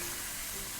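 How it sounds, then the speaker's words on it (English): Steak on a hot ceramic griddle set to high, with a little oil, gives a continuous broadband sizzling hiss, steady and moderately loud throughout. "Oh, you can hear that sizzle."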